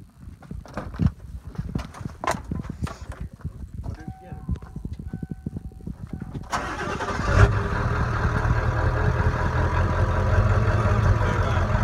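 Clicks and rattles lead into an engine cranking and catching, then a truck motor settles into a steady loud idle, with people talking nearby.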